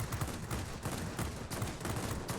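Rapid, rhythmic cannon fire from the 37mm guns of a JL-1A-37 aircraft in World of Warplanes, a steady thumping stream of shots at moderate loudness, mixed with other gunfire and no talk.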